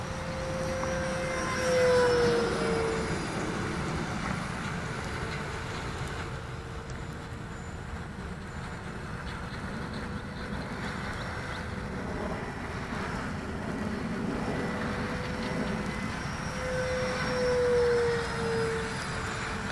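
An eFlite 64mm F-15 RC electric ducted-fan jet flies past in a steady whooshing whine that rises and fades as it passes, with a background of wind.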